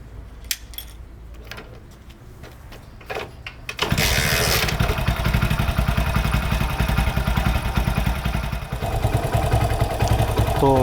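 Motorcycle engine being started for an air/fuel mixture screw adjustment: a few scattered clicks and cranking sounds, then the engine catches and settles into a loud, close, steady idle that runs to the end.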